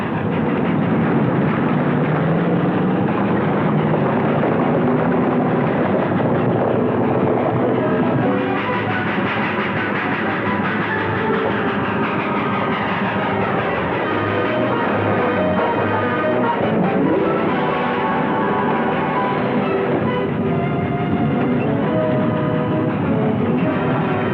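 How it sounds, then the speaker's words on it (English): Heavy trucks approach at night in 1940s rural Nevada, a loud, continuous rumbling engine roar with shifting tones and grinding that swells and holds close throughout, without talk. "Hey, here come the trucks."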